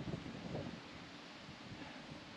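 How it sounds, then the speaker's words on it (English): Wind buffets a microphone at a low lookout over farmland, a steady broadband rumble and hiss filling the clip with no talking. "Apologies for any wind noise"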